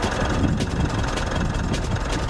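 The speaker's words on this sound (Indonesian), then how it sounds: "mesin juga halus banget" A smooth-running original diesel engine with a turbocharger idles steadily up close, a continuous low rumble and vibration with no talking over it.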